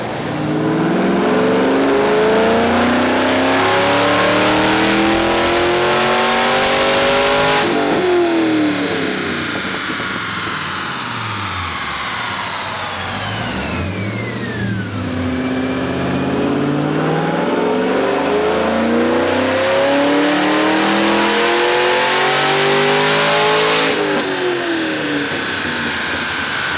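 Supercharged LSA V8 in a Chevy SS with catalytic converters, revving hard with a loud, continuous exhaust roar that climbs and falls through repeated sweeping rev cycles, no talk over it.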